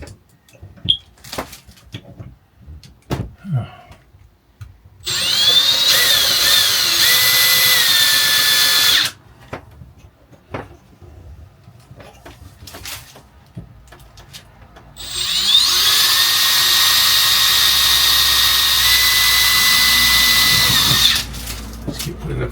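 A power drill boring pilot holes into a cracked shower wall panel in a 2010 Bailey Pegasus 462 caravan, with two long sustained whining runs of about four and six seconds, separated by quieter handling clatter and brief movement sounds.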